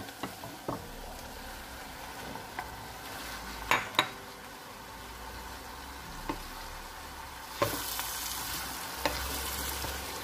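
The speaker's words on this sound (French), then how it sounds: "Quand vous rajoutez la viande hachée, veuillez bien la tourner pour qu'elle ne soit pas mélangée" Ground beef fries in a cooking pot for lasagne bolognese with a steady, moderate sizzle, punctuated by intermittent clinks and scrapes of a utensil stirring against the metal.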